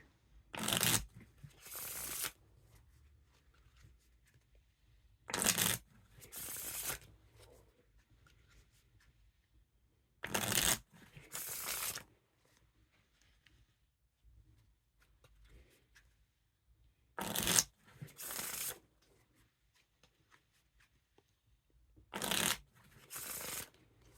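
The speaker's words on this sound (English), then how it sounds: "Now time for the riffle shuffle or bridge shuffle." A deck of Elevation Night Edition playing cards being riffle shuffled, five separate rounds of quick fluttering riffles, each a pair of crisp bursts, with quiet pauses between.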